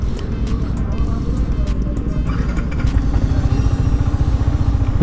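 A Yamaha MT15 BS6 motorcycle idles nearby with a rapid, even low-pitched pulsing putter. The engine note grows slightly stronger toward the end, and a person talks over it.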